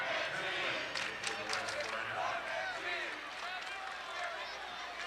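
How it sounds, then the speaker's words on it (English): A crowd at a high school basketball state semifinal between West Linn and another team shouts and cheers in the background, a steady roar under close commentary talk. "Crowd behind us, you might hear him shouting"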